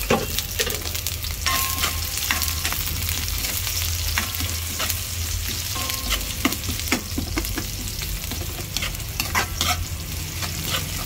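Onions sautéing in a pan for carbonara, a lively sizzle broken by frequent clinks and scrapes of a utensil stirring, close and steady with no talking.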